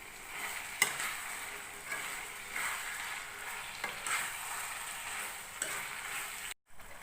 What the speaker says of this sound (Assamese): অলপ সময় চিকেনখিনি ভালকৈ ফ্ৰাই কৰি ল'ব।